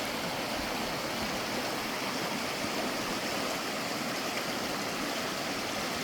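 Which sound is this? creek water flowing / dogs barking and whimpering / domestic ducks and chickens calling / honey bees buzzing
creek water flowing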